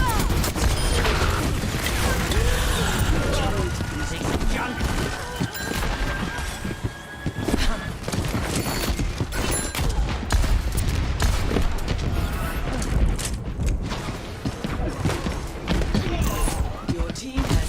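Bastion's turret gunfire in the Overwatch video game rattles in near-continuous bursts through a dense, loud battle mix, with other weapons, impacts and voices layered on top.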